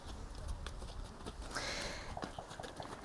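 A horse walks in an equestrian riding arena, its hooves clip-clopping in a steady, moderately close rhythm over a muffled background, with a brief louder hiss-like burst midway.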